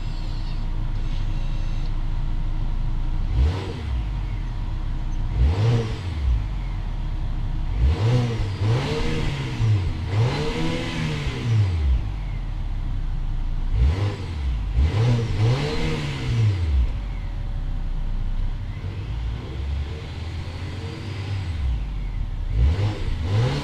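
A Volvo S60's engine revs repeatedly through its exhaust, each rev climbing and falling in pitch, with a steady idle rumble between the bursts and no talking.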